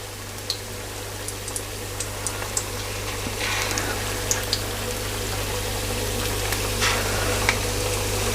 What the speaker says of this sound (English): we're going to fry these now for about 5 to 6 minutes until they're really nice and crispy and golden brown in colour